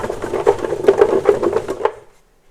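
Red onions tossed and stirred in the basket of a large Ninja FoodiFlex Megazone 10.4L air fryer, giving a close run of quick rustling, scraping knocks that stop abruptly, leaving near silence.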